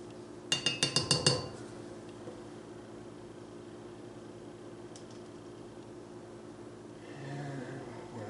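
Metal measuring spoons jingle together in a quick rapid rattle of six or so bright clinks near the start, then quiet room hum with a faint tap later.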